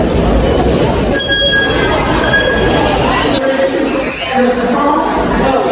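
A train rumbles steadily with metallic wheel squeals, heard from up close among a chattering crowd of people talking nearby.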